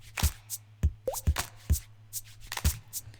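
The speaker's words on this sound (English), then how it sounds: "Now the droplet sound is actually me just going and flicking my cheek." Hollow water-droplet plops made by flicking a cheek, with reverb added, about six short pops in an uneven rhythm, close and fairly faint.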